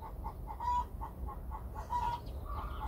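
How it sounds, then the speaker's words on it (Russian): Chickens cluck in a farmyard with a steady run of short, rhythmic calls and a few drawn-out squawks at moderate distance, over a low background rumble; no one speaks. "Там курочка кукарекает."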